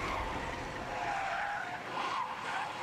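Car skidding as the driver loses control at speed, a loud sustained tire squeal with engine noise, close and continuous, no voices.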